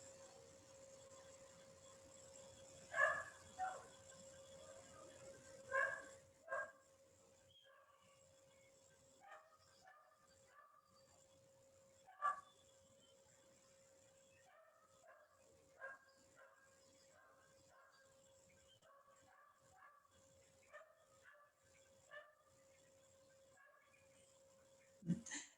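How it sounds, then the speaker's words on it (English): A small dog barks in scattered bursts some distance away outdoors, with a steady hum and occasional birdsong around it. "some of you can hear the little doggy outside who's barking"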